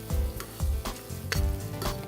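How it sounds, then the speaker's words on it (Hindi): Spaghetti sizzling loudly in a hot pan with salt and oregano as it is stirred, steady frying hiss with repeated scraping strokes of the spoon, close and alone. "इसको भी स्टर करेंगे ताकि जो सॉल्ट है और फ्लेवर्स हैं वो मिक्स हो जाएं"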